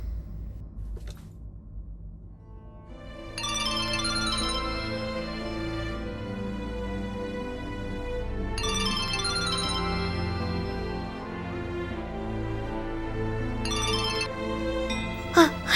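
A phone ringtone plays a repeating melody in several bursts at moderate volume, part of a repeated call made over a weak signal.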